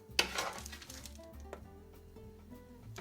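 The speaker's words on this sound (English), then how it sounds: "we're gonna put some of the cooked butternut squash in with the onions" Cooked butternut squash goes into a pot of softened onions for coconut curry soup, giving a sharp clink of utensil on pot, a soft squish and a quiet ongoing sizzle.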